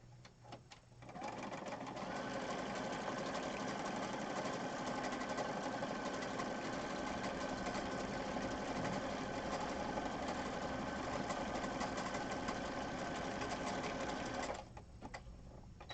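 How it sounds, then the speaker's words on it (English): A sewing machine stitches fabric in one long continuous run, a steady close whirring hum after a brief start and stopping near the end. "I'm going to go ahead and flip this over and sew down this part."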